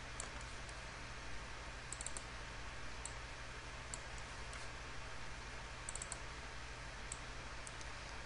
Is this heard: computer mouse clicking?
yes